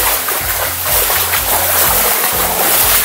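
Splashing water as people trek on foot up a river toward a waterfall in Lembah Harau, a steady close sloshing and splattering of feet and legs through the current, continuous for a few seconds with no talk.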